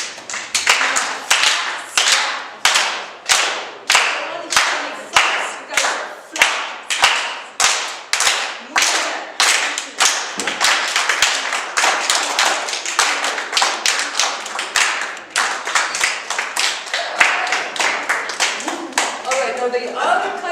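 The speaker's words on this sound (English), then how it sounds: "in a flamenco clap, there's 2 basic kinds. There's the open hand, and I want this side of the room to do the open hand clap" A room of people claps flamenco-style with open hands at an open mic night, sharp bright claps landing in a quick steady rhythm, loud and close, staying tight together for the full stretch.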